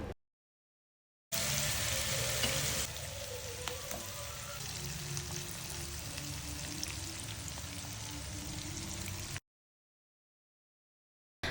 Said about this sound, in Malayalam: അതിലേക്ക് നമ്മൾ നേരത്തെ മാരിനേറ്റ് ചെയ്ത് മാറ്റി വെച്ചിട്ടുള്ള ആ ഒരു ഫിഷൊക്കെ വെച്ചിട്ട് നല്ല രീതിയിൽ തന്നെ ഒന്ന് ഫ്രൈ ആക്കിയിട്ടെടുക്കാം